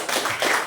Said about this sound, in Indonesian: Berikan lagi tepuk tangan.